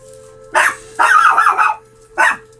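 A dog barks in three sharp bursts, the middle one a longer run of rapid barks, over a steady low electrical hum with no talking.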